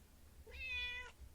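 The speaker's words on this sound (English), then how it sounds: "Little cat." A single cat meow, drawn out for about half a second, mid-distance and clear over a quiet low hum with no talking.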